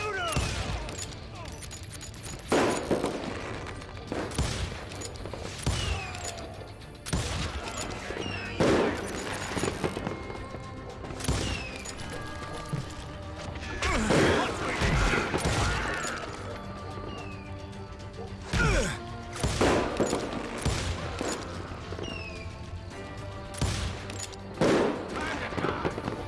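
Western shootout gunfire in Call of Juarez: Gunslinger, with repeated sharp gunshots in scattered bursts and rapid volleys across the whole stretch, layered over game music and effects.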